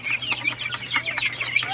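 Chickens cluck and chatter close by in short bursts, with soft rustling and fluttering mixed in, no voices.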